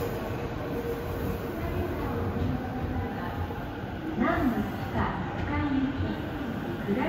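A Tobu Skytree Line out-of-service train departs from Kita-Senju, a low rumble of wheels and motor with faint squeals, under repeated platform announcements.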